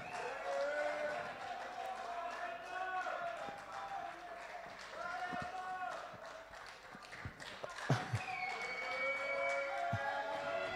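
Sustained audience clapping at a public forum on getting more women into political parties, a steady dense patter of many hands lasting several seconds, with faint voices and a few sharper claps mixed in.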